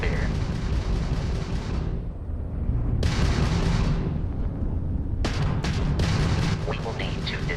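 Weapons fire from a Crimson Fleet ship during Starfield ship combat, heavy booming blasts in repeated bursts with sharp onsets around the third and fifth seconds, loud and close under a dense rumbling game mix.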